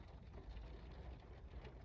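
Steady rainfall with raindrops spattering on surfaces, a dense, even hiss that continues without a break and with no voices.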